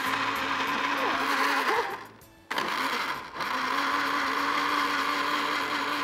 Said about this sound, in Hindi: ये है सुपर एशिया के स्टैंड ब्लेंडर